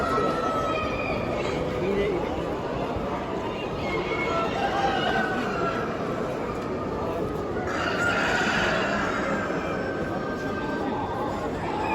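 A Dark Brahma rooster crows and chickens cluck at a national poultry show, bird calls standing out over a steady hall hubbub with people talking throughout.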